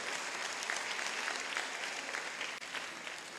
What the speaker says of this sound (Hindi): आप ताली बजा रहे हैं यार